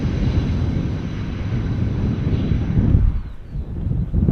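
An airliner landing in a crosswind at Schiphol Airport, its engines giving a steady, loud roar with broad rushing noise and some wind buffeting, easing off briefly near the end before swelling again.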